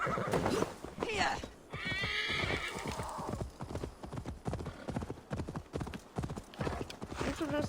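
Hooves clip-clop steadily as a horse gallops in Assassin's Creed Valhalla, with a clear neigh early on; game music and effects play throughout and someone speaks briefly over it.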